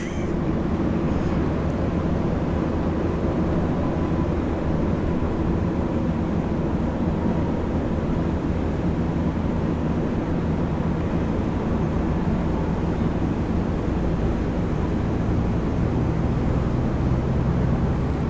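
A Jetstar Boeing 787 airliner moves out at Brisbane International Airport, giving a continuous broad engine roar that stays even and fairly loud for the whole stretch, with no voices.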